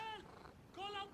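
A cat being petted in Assassin's Creed Mirage gives two short, tonal meow-like calls with a brief gap between them, fairly faint and close.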